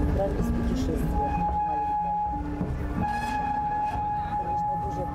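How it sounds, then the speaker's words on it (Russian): A narrow-gauge railway train of the Apsheronsk line rolls into the Guam gorge. It gives a continuous, loud rumble of wheels and carriages, with steady tonal hums and a drawn-out horn-like tone running through it. "наш подвижной состав въезжает в Гуамское ущелье"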